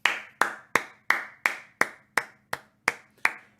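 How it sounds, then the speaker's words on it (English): Ten sharp, evenly spaced hand claps from a podcast host, close and crisp with quick decays, each clap ringing briefly before the next in a steady rhythm. "I had to clap"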